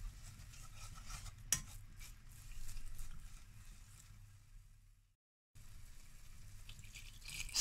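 Quiet scraping and tapping of a utensil stirring flour-and-butter dough over low heat in a pan while making béchamel, with one sharper clink and a brief drop to silence near the end.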